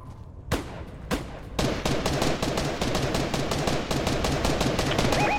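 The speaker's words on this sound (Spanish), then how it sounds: "¿quién está disparando?" Rapid gunfire from a Fortnite Battle Royale match, starting with a few isolated shots and then settling into a dense, steady stream of repeated bursts that carries on loudly to the end, with no one speaking over it.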